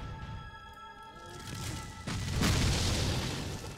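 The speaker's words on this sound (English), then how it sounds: "It's got a freaking chain gun on it." Booming, thudding gunfire from an enemy chain gun in the action RPG Torchlight 2, building from scattered thumps into a loud, sustained roar over a musical game soundtrack.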